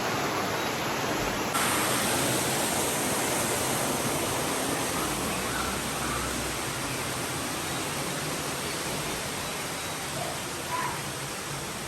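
Water pouring steadily at a spring source, a constant broadband rush that stays even and fairly close for the whole stretch with no talking.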